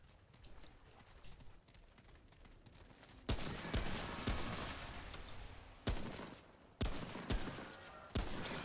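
Gunshots in the game Remnant: From the Ashes ring out in a burst of sharp, loud cracks, about six shots spaced irregularly over a few seconds after a quieter stretch of background game sound, with no talk.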